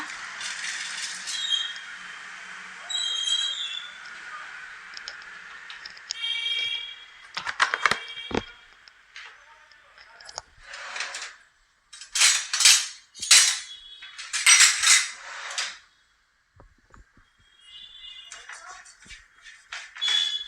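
Dried prawns are roasted in a metal pan over a gas stove, giving scraping, clattering stirring and bursts of metallic clinks and rattles from a utensil against the pan. A faint background hiss runs throughout, with gaps between the bursts.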